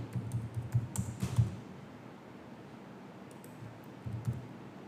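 Quick run of soft key taps as a number is entered on a computer keyboard, a brief burst of close clicks that trails off into a quiet room hum.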